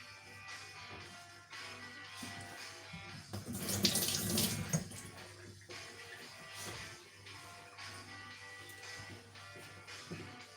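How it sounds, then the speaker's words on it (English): Tap water runs into a pot for soup, a brief close gush of splashing that swells and then stops, set among quieter kitchen clatter and a faint steady hum. "Now I'm gonna put some water."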